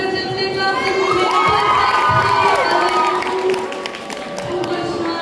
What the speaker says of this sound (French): on peut l'applaudir très fort, s'il vous plaît